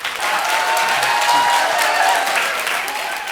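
An audience at a talk concert hosted by a Korean shaman breaks into loud, sustained applause welcoming the lecture, with many hands clapping evenly throughout and no speech over it.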